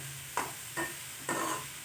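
Jackfruit flower thoran cooking in a pan, soft stirring strokes in three separate scrapes over a faint steady sizzle, quiet and close.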